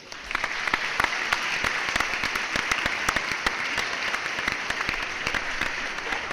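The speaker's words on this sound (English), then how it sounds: "round of applause for Jamar Chase's amazing rookie season" A round of applause in honour of Ja'Marr Chase's rookie season, steady dense clapping with sharp individual claps standing out, close and continuous with no talking.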